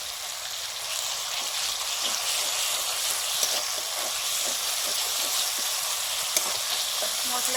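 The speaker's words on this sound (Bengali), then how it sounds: "মশলাটা একটু জল দিয়ে কষে নেব" A ground cumin and coriander spice paste fries in a pan with a loud, even sizzling hiss, steady throughout with occasional soft pops and no talking.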